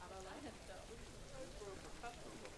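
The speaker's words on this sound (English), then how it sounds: "It's raining again." Rain falling in the zoo-building video game Planet Zoo, a soft, steady patter and hiss running continuously at low volume, with faint tonal game sounds drifting through.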